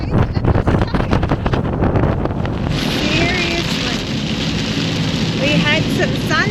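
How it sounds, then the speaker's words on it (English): Heavy rain and strong wind batter a van during a torrential storm, a loud continuous roar of gusts buffeting the microphone and downpour hissing without pause. "now we've got full-on rain again and wind"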